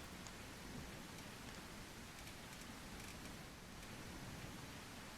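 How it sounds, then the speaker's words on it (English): Heavy, steady rain in the video game The Isle Evrima hisses continuously across the whole stretch, a dense wash of drops with no voices. "It is raining heavily."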